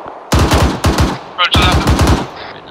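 Rapid bursts of automatic gunfire in Arma 3, loud and close, three or four sharp volleys with brief gaps and a faint radio-like voice between them.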